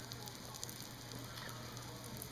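Ebelskiver batter sizzling in a hot pan. It gives a steady, fine crackling hiss with soft pops throughout, close by and with no talk.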